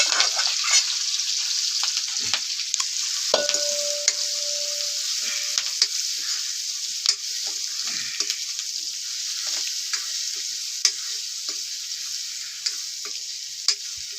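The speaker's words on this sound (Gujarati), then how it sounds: "આમાં તેલ નાખેલું છે હાલો હવે આમાં વઘાર છે" Whole spices sizzle and crackle as they temper in hot oil in a pan, a steady close hiss with small pops and one brief tonal whine, no one speaking.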